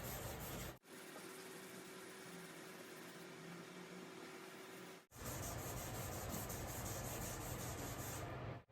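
Hand wet sanding of the painted gas tank on a motorcycle to knock down orange peel, a steady soft rubbing hiss that runs continuously, breaks off briefly twice and then resumes, close and even with no voices.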